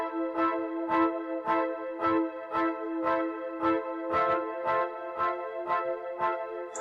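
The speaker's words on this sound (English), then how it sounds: "what I always play on the keyboard sounds something like this." An electronic keyboard plays a song's part as a steady run of repeated chords, struck roughly twice a second and played alone at an even, moderate volume.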